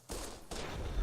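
Gunfire in the video game Fallout New Vegas: a sustained, dense volley of shots fills the whole second, loud and continuous, with a brief break midway before the firing resumes.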